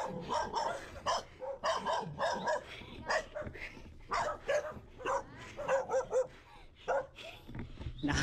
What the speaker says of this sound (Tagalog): Nahabol pa tayo ng aso.